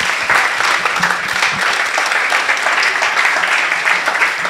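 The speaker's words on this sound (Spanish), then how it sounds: "Un fuerte aplauso" Audience at a conference session applauds, a dense, even burst of many hands clapping, fairly loud and close, sustained without voices over it.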